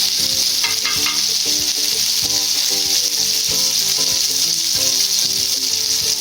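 Masala-coated fish fries Chennai style in a pan, a loud, constant close-up sizzle of hot oil with a tonal, music-like layer running underneath throughout.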